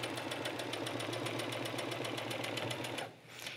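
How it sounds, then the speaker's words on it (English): A sewing machine stitches across the end of a sweatshirt hood, a steady rapid mechanical chatter of the needle that runs close and even for about three seconds before stopping. "we're just going to sew directly to the end of the hood"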